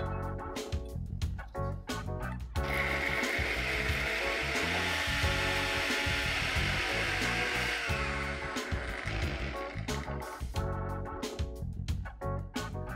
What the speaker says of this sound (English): I'll be taking half of this mixture and putting it in a grinder.